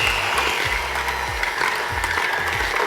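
Electric hand mixer beating a mascarpone cheese mixture for tiramisu, a steady whirring motor with rhythmic clattering as the beaters knock around the bowl.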